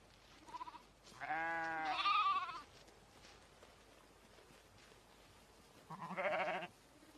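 Sheep of the rare Bohemian forest breed bleat in a quiet woodland setting: two separate drawn-out calls, the first longer and wavering, the second shorter after a few seconds of near silence.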